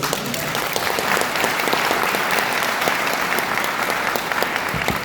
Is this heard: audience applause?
yes